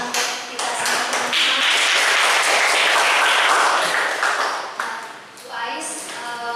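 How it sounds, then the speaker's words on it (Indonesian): Classroom students applaud together in a sustained burst of clapping that swells and holds for several seconds, then thins out and fades as a few scattered claps and voices continue. "Kita beri tepuk tangan kita semua."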